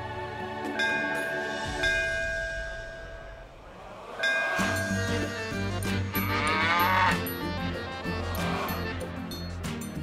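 A cow lows loudly in a few drawn-out moos, close by, mixed with a musical score and other rumbling sound throughout.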